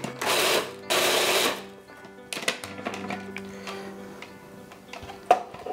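A food processor purees sambal oelek chili paste in two short, loud motor bursts, then goes quiet apart from scattered clicks and knocks as the bowl and lid are handled.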